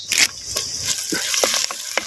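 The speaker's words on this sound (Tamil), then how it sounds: "சின்ன வெங்காயத்தை அப்படியே எண்ணெயில் வதக்கு வதக்கு நல்லா வதக்குறேன்" Small shallots sauté in hot oil for a homemade soup, giving a steady close sizzle and spitting crackle with a few soft stirring scrapes and no voices.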